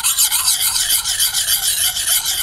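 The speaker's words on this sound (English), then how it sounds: "grab the sides of the puck and just start going in a circular motion" A Lansky puck sharpener rubs in circular strokes against a knife blade, giving a steady close rasping scrape with rhythmic swells and no voices.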